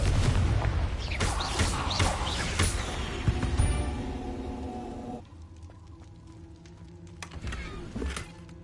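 Confringo blasting spell explosions in Hogwarts Legacy, a series of loud booming bursts and thuds packed into the first five seconds, then quieter scattered impacts over a low game hum.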